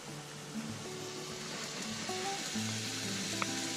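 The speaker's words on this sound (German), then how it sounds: "Hier fängt es an zu brutzeln, gut so." Food sizzles in a frying pan with a continuous gentle hiss, and faint tonal hums come and go underneath, with no speech.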